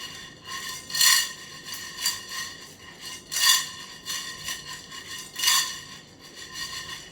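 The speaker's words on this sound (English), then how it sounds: "with both hands, we're going to get the food moving so that it's not sticking to the bottom of the pan, and then a quick jerk movement" Food tossed and sautéed in a metal pan, four rhythmic scraping, clattering swooshes about two seconds apart, close and clear with no talking.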